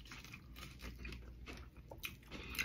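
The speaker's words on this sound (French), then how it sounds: "Le bonheur d'entendre les graines de maïs" Crunchy corn kernels chewed close up, a quiet series of irregular crisp bites and crackles with no talking.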